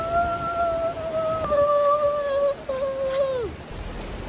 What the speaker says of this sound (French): On vient du sport, il pleut.